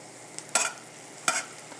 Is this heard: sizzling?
yes